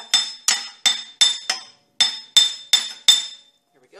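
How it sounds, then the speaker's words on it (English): Sharp metallic hammer taps strike a steel hub on a Dana 30 axle knuckle, about nine close, ringing blows in a steady rhythm with a brief pause partway through, alone without talk. "Removing the hub from the axle may take a little bit of work with the hammer"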